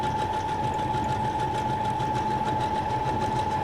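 Sewing machine stitching through junk journal paper, a steady, continuous mechanical whirr with a faint tonal hum that holds even throughout, with no talking.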